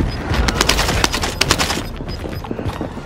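Rapid gunfire from a battle royale video game, a quick run of close, sharp shots that thin out into a few scattered bursts.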